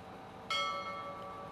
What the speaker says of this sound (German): Magische Gong.